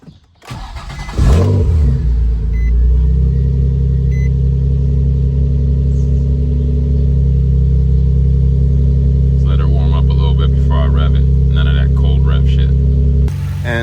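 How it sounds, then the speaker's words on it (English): A Nissan 350Z fitted with a Platinum Racing Stage 3 clutch cranks and catches on a cold start, then settles into a loud, steady idle with a strong low rumble, close up and continuous, with a faint voice briefly over it. "I'll start it up and let you guys see how it revs up now"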